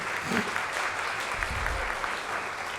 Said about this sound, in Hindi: मैं चाहती हूँ कि सलीम भाई के लिए ज़ोरदार तालियाँ हो जाएँ